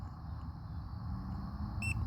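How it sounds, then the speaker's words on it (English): A short electronic beep chirps near the end, after a steady low hum, sounding close by: a GOLABS R300 solar power station beeping on startup. "the unit beeps and the screen comes on"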